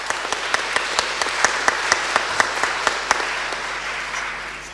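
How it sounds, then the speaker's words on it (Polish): Steady applause from a gala audience, a dense wash of clapping with a few sharper individual claps standing out, lasting throughout. "Brawa dla nich."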